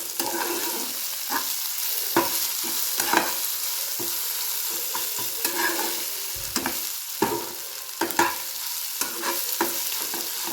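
Prawn thecha frying in a pan, a steady close sizzle broken by repeated scraping stir strokes at an uneven rhythm, with no voices.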